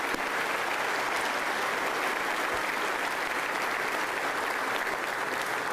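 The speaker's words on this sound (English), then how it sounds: "Let's give all of those folks a round of applause." Sustained audience applause for guests at a university athletics event, a steady dense wash of clapping filling the room for several seconds without a break.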